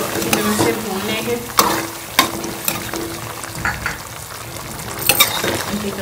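Beef karahi with black pepper sizzles loudly in a pan while a spoon scrapes and stirs, producing sharp metallic clacks every second or so over a continuous frying hiss; no voices.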